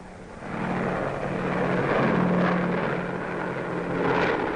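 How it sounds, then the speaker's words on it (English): A deep, droning roar of World War II heavy propeller bombers passing overhead in waves, swelling and holding steady with a low engine hum throughout. "500 huge bombers in wave after wave"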